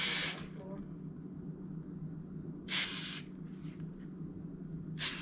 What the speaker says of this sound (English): The can does say hold it upside down and spray it for 5 seconds to clean out the nozzle.